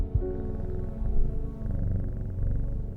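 A cat purring steadily when poked in the video game Strange Horticulture, a low continuous rumble that runs the whole time at moderate loudness, with no talking.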